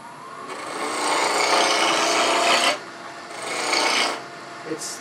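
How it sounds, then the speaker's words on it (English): A wood lathe rough-turns a Christmas tree ornament at about 1700 rpm, giving a loud, steady rasping cut that breaks off briefly and then resumes for a second pass. "So I'm going to go ahead and finish rough turning this."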